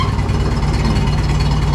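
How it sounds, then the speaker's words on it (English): A J.I. Case 730 tractor engine idles slowly in an old farrowing barn, making a loud, steady, close rumble with an even low throb and no voices. "Love how slow that idles."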